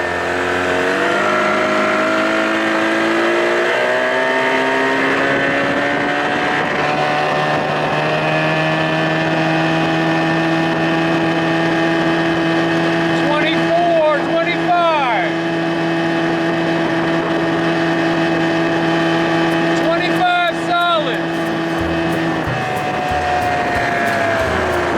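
A 2000 Johnson 25 hp outboard motor drives a 13-foot Whaler boat, a loud close steady engine drone that rises in pitch as it speeds up, holds high, then dips briefly twice before throttling down near the end.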